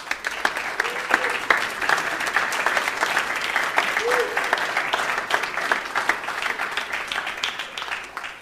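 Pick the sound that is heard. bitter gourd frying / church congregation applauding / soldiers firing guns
church congregation applauding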